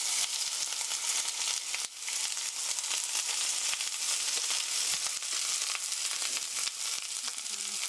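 Sliced onion and cabbage hit hot oil and fry loudly, a dense, steady crackling sizzle with rustling stir-fry movement throughout.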